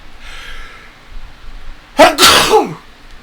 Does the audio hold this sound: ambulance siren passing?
no